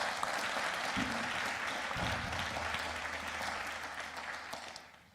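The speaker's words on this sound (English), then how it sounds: "Let's give them a round of applause." Applause from an audience at a spring opening meeting, a dense steady wash of clapping filling the room, holding for about five seconds before tapering off at the end, with a low hum beneath it.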